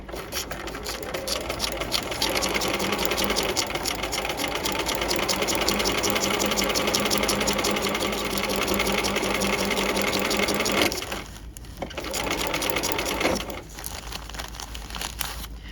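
A sewing machine stitches the side seams of a garment, fabric laid over tissue paper at a short stitch length, running in a loud, steady rapid whir that stops briefly near the end and then restarts.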